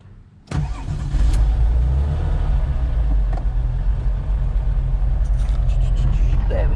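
A Porsche 911 GT3 996 engine cranks and fires up abruptly, then settles into a loud, steady, deep idle close by, with a few brief clicks over the rumble.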